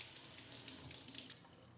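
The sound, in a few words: rinsing fingers under running tap water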